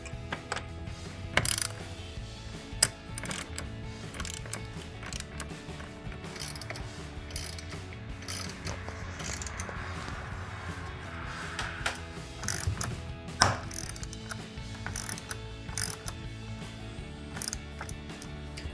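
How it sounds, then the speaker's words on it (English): A ratchet with a 10mm socket tightens bolts while fitting an S&B cold air intake on a 2019-2023 Silverado/Sierra 1500, giving steady close clicking runs with occasional sharper metallic clacks and no talk. "I'm going to take 10mm socket and tighten all of our"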